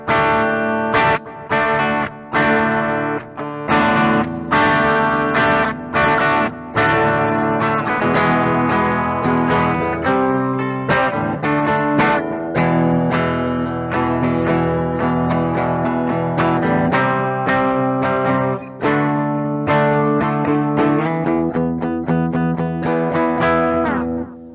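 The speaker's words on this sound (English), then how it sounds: "So let's try this bridge pickup on clean." Fazley FES518RD electric guitar on its bridge pickup through a clean tone, played as loud, bright picked chords and single notes, with sharp attacks and ringing sustain throughout.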